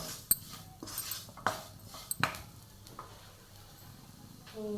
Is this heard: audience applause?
no